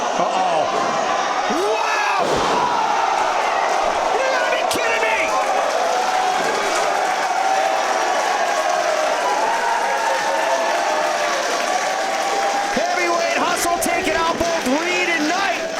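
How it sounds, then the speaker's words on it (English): A large crowd at a pro wrestling match roars and cheers loudly throughout, with a commentator talking excitedly over the sustained noise and a few sharp thuds. "Listen to the noise of the DPW crowd"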